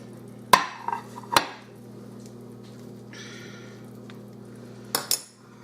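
Cube steak lifted from a serving plate of country fried steak into a dish, with a couple of sharp cutlery clinks on the plate near the start and two more near the end, over a steady low background hum.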